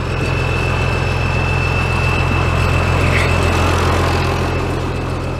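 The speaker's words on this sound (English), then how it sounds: "This tractor sounds amazing." A tractor engine runs steadily in a field, a loud, close, even drone with a strong low rumble and a faint high whine holding throughout, no voices over it.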